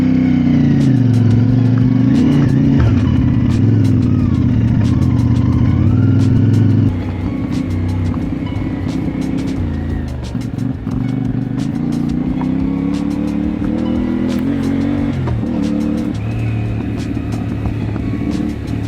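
A CFMOTO 450MT adventure motorcycle's engine drones steadily while riding off-road over gravel and fire trail, loud and continuous with shifting pitch as the rider changes speed, no talking.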